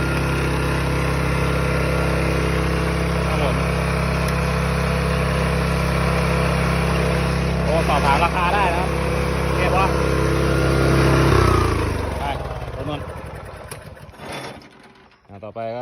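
A small petrol tiller engine idles steadily with a low, even drone, a voice talking over it, before the engine winds down and cuts off near the end.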